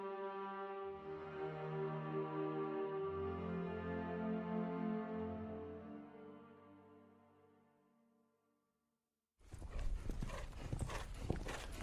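Hooves of a horse named Petunia trotting along a country road come in loud and close for the last couple of seconds, after a long sustained tone fades away into silence.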